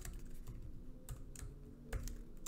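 Keys clack on a computer keyboard in short irregular bursts, with a few sharper louder strikes standing out against quiet room tone.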